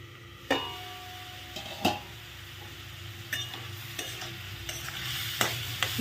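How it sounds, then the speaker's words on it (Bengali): Radish and fish in a pan being stirred well before covering, with a soft continuous sizzle and a few sharp spoon knocks against the metal spaced through, quiet and close with no voices. "এটাকে ভালো করে নেড়ে দাও"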